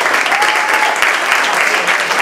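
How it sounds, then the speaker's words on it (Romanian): Audience applause at a high school theatre performance for an eleventh-grade drama class, close, loud, dense clapping that continues steadily throughout with a faint tone briefly audible within it. "o să vă aplaudăm. Și asta puteți să o faceți și mai tare."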